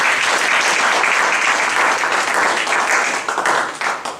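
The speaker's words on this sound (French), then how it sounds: "Est-ce que vous êtes d'accord d'acclamer le Seigneur?" A church congregation claps together in sustained, dense applause that carries on strongly for several seconds before thinning slightly toward the end.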